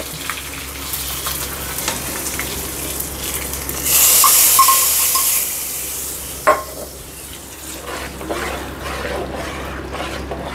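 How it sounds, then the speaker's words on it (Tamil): Curry leaves, dried red chillies and asafoetida sizzle in hot oil for a South Indian spinach curry, a steady frying hiss that swells into a louder crackle partway through before settling again. "கொஞ்சம் கருவேப்பிலை, கொஞ்சம் வரமிளகாய், ஒரு ஸ்பூன் பெருங்காயத்தூள் போட்டுக்கலாம்."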